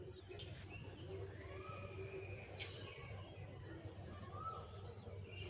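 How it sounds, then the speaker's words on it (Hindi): An Asian koel calls in the quiet early morning in Kichha, Udham Singh Nagar, Uttarakhand, faint and distant, with other birds chirping and insects buzzing in the background. "कोयल की आवाज़ आपको सुनाई पड़ रही है।"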